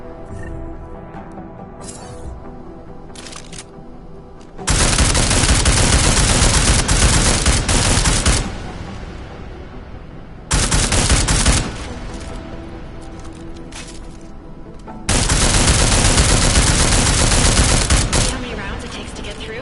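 Automatic gunfire from the video game Deus Ex: Mankind Divided comes in three long, loud bursts of rapid shots with quieter gaps between them. Faint game sounds fill the pauses.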